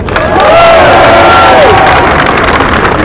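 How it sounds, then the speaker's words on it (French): A large crowd cheers loudly with shouts and shrill whistles at a public speech honoring those who fight under the national colors, a continuous close roar lasting about three seconds. "je veux que vous les applaudissiez très fort"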